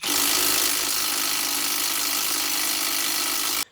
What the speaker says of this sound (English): let's go ahead and get the bottom of our shock loosened up